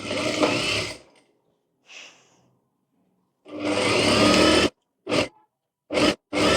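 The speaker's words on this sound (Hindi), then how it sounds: "पहले एक एक सिलाई लगा लेंगे" A sewing machine stitches a blouse in a few separate runs: a long whirring burst, a faint short one, another long burst and then quick short spurts, with silent pauses in between.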